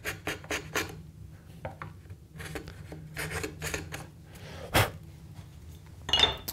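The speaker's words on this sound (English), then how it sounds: "a paring crankneck chisel can be nice because I can kind of come across and pick up any high" A crankneck paring chisel shaves high spots from a hand-cut tapered sliding dovetail in wood, giving a series of short, close scraping strokes with pauses between them. One sharper scrape stands out near the end.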